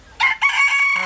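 A rooster crows at a zoo in Chiang Mai, Thailand: two loud, close, strained calls in quick succession, the second drawn out and ending in a lower tail, with no talking.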